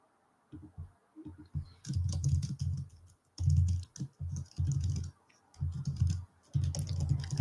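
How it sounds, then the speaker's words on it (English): Computer keyboard typing in quick, uneven bursts of clicking keystrokes with short gaps, close and moderately loud, no voices. "sorry if you hear all of my typing"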